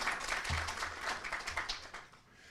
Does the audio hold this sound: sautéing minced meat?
no